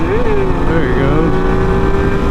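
An Aprilia RS660 Limited Edition motorcycle revs loudly through gear changes on a group ride, its engine pitch rising and dropping with each shift under heavy wind noise.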